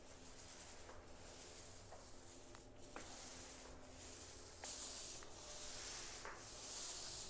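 Roller back-rolling freshly spread epoxy across a garage floor before flake broadcast: a steady, close sticky rubbing swish with repeated soft strokes and faint clicks, continuous and without talk.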